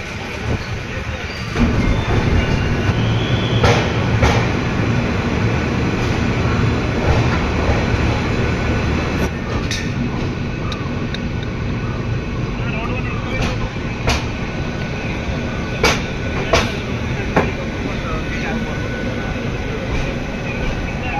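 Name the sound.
train departing and running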